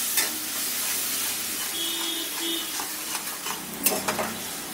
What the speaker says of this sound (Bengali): মশলাটাকে একটু 1-2 মিনিট তেলের মধ্যে নেড়ে নেব।